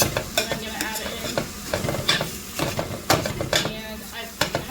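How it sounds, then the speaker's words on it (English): Hot pork sausage sizzles and fries in a pan while being stirred, with steady crackling and repeated scraping and clinking of a utensil against the pan close by. "it's hot, pork sausage, and we're just going to cook that all up together"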